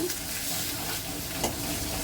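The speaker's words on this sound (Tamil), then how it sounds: "அப்புறம் நறுக்கி வச்சுருந்த வெங்காயம், பூண்டு சேர்த்து நல்லா வதக்கிக்கோங்க" Steady sizzling and crackling of chopped onions and garlic sautéing in a hot pan for mutton lungs pepper fry, continuous hiss with faint stirring, no voices.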